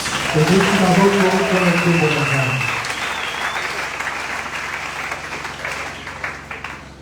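Loud applause from a church congregation during a worship service, dense clapping that swells at the start and slowly thins out over several seconds, with voices and cheers mixed in.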